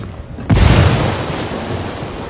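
A grenade explosion in Ghost Recon Wildlands hits suddenly after near silence, one loud close boom that trails off into a long broad rumbling wash.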